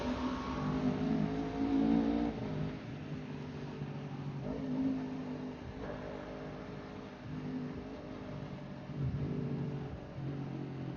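Honda CBR 250 RR motorcycle engine in sport mode, fitted with an MBR Tech module and quick shifter, revving and pulling with rising and falling engine tones, steady and fairly close, no talking.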